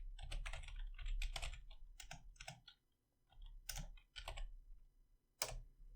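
Computer keyboard typing into Notepad, soft nearby keystrokes in rapid runs broken by short pauses, heard alone.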